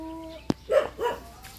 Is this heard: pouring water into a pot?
no